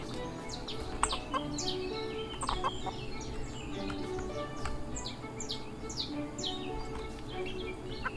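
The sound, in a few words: chickens clucking in a video game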